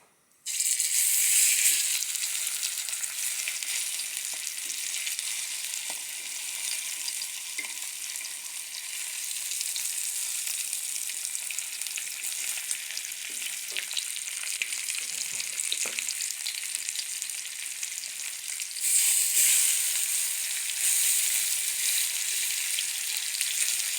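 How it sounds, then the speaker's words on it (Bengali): Chicken pieces fry in hot oil with a loud, continuous crackling sizzle that swells again near the end, close and steady throughout. "তেল গরম হয়ে গেছে, আমি এখন চিকেনের পিসগুলো দিয়ে দিব।"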